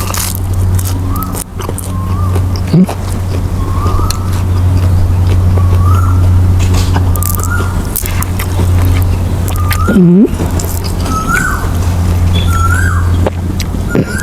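Pet birds kept at home give repeated short upward-sliding calls at a steady pace over a constant low engine-like hum, with a single louder swooping call partway through.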